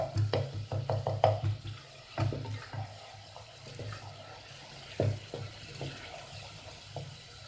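Masala for a spiced potato and carrot dish sizzles and gets stirred in a pan, with repeated scraping and clinking of the spoon over a steady frying hiss, no talking.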